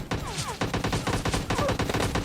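Rapid UMP-45 submachine gun fire in PUBG Mobile Lite, loud close bursts of shots in quick rhythm, with a short pause before the firing resumes across the whole stretch.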